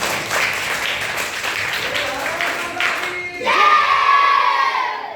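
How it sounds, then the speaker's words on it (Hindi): A classroom of children claps loudly and cheers on cue, a dense burst of clapping and shouting that swells and then gives way to a sustained crowd cheer near the end. "चलो तो एक बार जोरदार ताली बजाइए"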